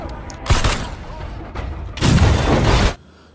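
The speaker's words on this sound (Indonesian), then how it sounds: "Terjadi baku tembak antara Saju dan para tentara." Bursts of gunfire erupt in a film shootout between a fighter and soldiers, two loud rapid volleys of shots with quieter clatter between them.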